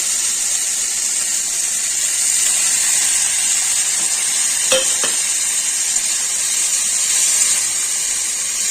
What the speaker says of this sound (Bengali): এখন দিয়ে দিচ্ছি বেটে রাখা রসুন।